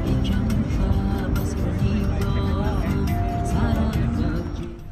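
Marshrutka minibus driving on a road in Tajikistan, a loud continuous engine and road rumble heard from inside the vehicle, with a voice speaking over it.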